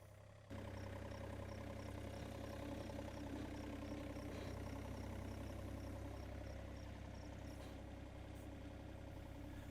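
A John Deere compact excavator's engine runs at a steady mid-to-low drone while the machine drives slowly up trailer ramps, loud and continuous from just after the start with a faint high whine above it.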